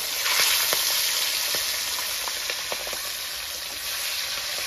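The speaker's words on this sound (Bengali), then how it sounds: "কারণ এই মাছ পুরো কড়া ভাজা খাবো। প্রথমে বড় পিসগুলো দিই।" Large fish pieces hit very hot oil for deep, crisp frying, a loud, dense crackling sizzle with a few sharp pops, heard up close with no voices.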